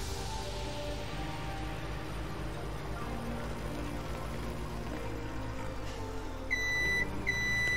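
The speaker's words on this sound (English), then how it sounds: "Oh, that's a loud beep." Machinery hum in Farming Simulator 17 gives way near the end to a loud, high electronic beep sounding twice in steady repeated pulses.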